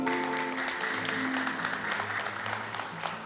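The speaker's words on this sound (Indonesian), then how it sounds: "Tepuk tangan buat kita semua." Sustained applause from an audience at an economic forum, dense steady clapping with a faint tonal hum running underneath and no speech.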